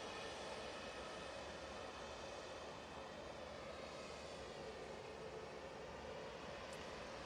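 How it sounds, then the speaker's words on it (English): Distant EasyJet airliner engines spool up for takeoff to Geneva at Manchester Airport, a steady broad roar with a faint high whine, holding level throughout with no voices. "we can see the EasyJet now spooling up"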